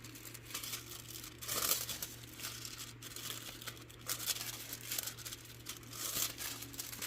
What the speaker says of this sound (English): It's forming better in there as I put the foil on there.